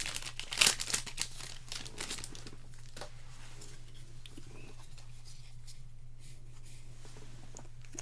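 Hands tearing open a plastic trading card pack without scissors, a burst of sharp crinkling and rustling at the start followed by quieter handling noise over a low steady hum.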